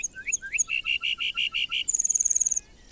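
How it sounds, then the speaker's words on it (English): Lark bunting song on the northern Great Plains: a series of bright, close whistled notes, then a steady run of evenly repeated chips, followed by a rapid high trill. "Like the lark bunting,"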